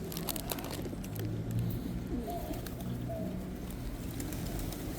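Pigeons near the San Felipe del Morro fortress in San Juan, Puerto Rico give a couple of brief low coos, faint against outdoor wind and ambient noise.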